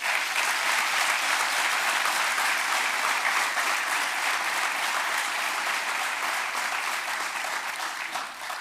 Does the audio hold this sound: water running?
no